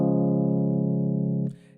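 A sustained synthesized piano-like chord triad from an amapiano track built in music production software, holding steady and loud for about a second and a half before cutting off abruptly, with no voice.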